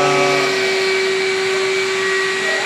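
Vacuum cleaner running steadily above a panel in an equipment room, a loud continuous whine with a strong steady tone, unbroken throughout.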